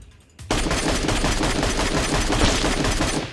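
Rapid automatic gunfire from an MK12 rifle in PUBG Mobile erupts after a brief quiet start, a loud dense stream of shots continuing to the end.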